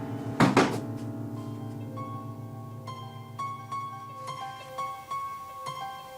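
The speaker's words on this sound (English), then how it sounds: "The creepy things down here always start with a ghost slamming the door." A door slams shut with a single loud thud early on, followed by lingering eerie tonal ringing and soft plinking sounds in a quiet, spooky interior.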